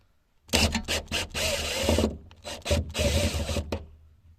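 A power tool, an impact-style driver rated to 300 Nm, loosens screws on a Mazda fuel pump in loud, close bursts of rattling mechanical noise with short pauses between them and no talking.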